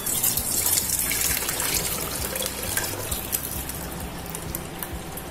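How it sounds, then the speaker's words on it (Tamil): Cooled moringa leaf soup pouring and trickling through a strainer into a vessel, a steady close liquid gush with small drips throughout, no voices. "இந்த மாதிரி ஒரு பாத்திரத்துல வடிகட்டி வச்சுட்டு நம்ம வடிகட்டி எடுத்துக்கலாம்."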